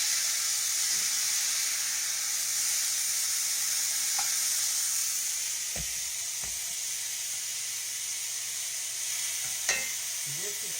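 Beef for stroganoff fries in a skillet with a steady, close sizzle and hiss that holds throughout, broken by a few faint clinks and taps of stirring.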